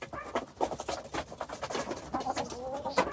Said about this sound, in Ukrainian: Такі півні,